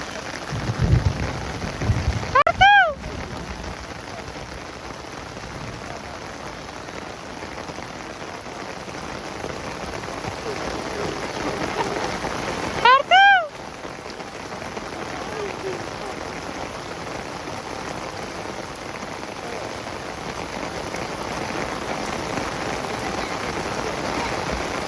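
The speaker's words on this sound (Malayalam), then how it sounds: "മഴ നന്നായി പെയ്തു ഗൈസ്." Heavy rain pours steadily and loudly throughout, a dense continuous hiss on surfaces, with a couple of brief voices and short squeaky sounds near the start and midway.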